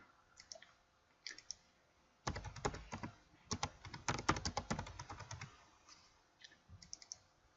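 Bursts of rapid key clicks from a computer keyboard, close and clear, with a short pause before a denser run of typing in the middle and a few scattered taps at the start and end.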